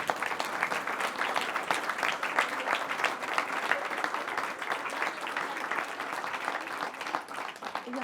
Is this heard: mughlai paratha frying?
no